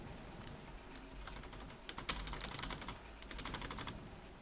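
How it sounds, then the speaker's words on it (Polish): Soft, rapid clicking of computer keys in irregular bursts while playing the game The Long Drive, fairly faint against a low background hum. "Wiem, słychać było moją klawiaturę najpewniej."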